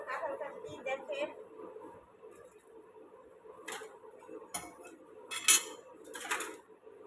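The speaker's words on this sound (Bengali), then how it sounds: "এখন এই যে আমি কাঁঠাল কাটতেছি।" A knife cuts through a soft, ripe jackfruit with a few sharp clicks and taps spaced through the second half, over a low background murmur of voices.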